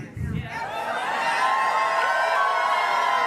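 Large crowd of Elvis fans gathered in Memphis for his 90th birthday, cheering and whooping in a broad sustained roar that swells after a brief low thump and holds steady, with voices mixed through it.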